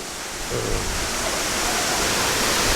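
A waterfall in the Philippines roars as a dense, continuous, broadband rush of falling water, steady and close with no other sounds standing out.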